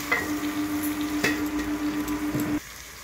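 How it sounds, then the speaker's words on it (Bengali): Ridge gourd and mixed vegetables fry under a lid in a pan, giving a steady close sizzle with a light clink partway through before the sound drops away near the end. "এটা ঢেকে ভাজবো, ঢাকা দিয়ে ঢেকে ভাজবো।"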